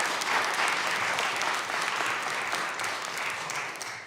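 Applause from the audience at a congressional committee hearing on veterans' benefits, a dense, steady wash of many hands clapping that holds for several seconds and fades slightly toward the end.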